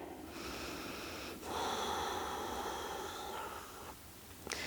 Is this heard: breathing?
yes